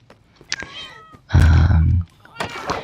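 A cat meowing in a short drawn-out cry, close by, alongside a brief loud low-pitched burst and scattered sounds around it.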